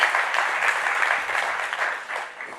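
An audience at a BricsCAD software keynote claps steadily, a bright, continuous patter of applause that gradually eases toward the end.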